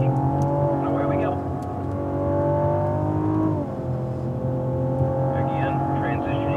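A 2016 Cadillac ATS-V climbs onto the track banking at speed, its engine holding a strong steady tone that swells, dips with a brief pitch change mid-way, then pulls on under the driver's continuous in-car commentary.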